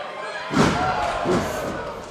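Clubbing forearm strike in a Rey Mysterio vs Alberto El Patron wrestling match, a sharp slam at about half a second and a softer thud later, over steady arena crowd noise.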